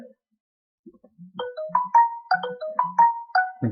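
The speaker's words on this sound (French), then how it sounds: "mon téléphone se déchaîne" A mobile phone plays a tonal ringtone melody, a repeating phrase of clear beeping notes that starts after a brief silence and rings loudly and close, with no talking.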